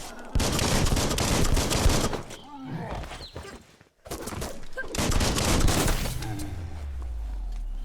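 Rapid gunshots in the PC game Biomutant: loud, close volleys of shots crackle through the opening seconds, drop off briefly into near silence, then return as a dense barrage before a low rumble trails off.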